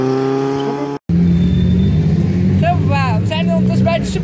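A car engine runs with a steady, loud low hum that cuts out for a moment and then continues. People talk over it inside the car.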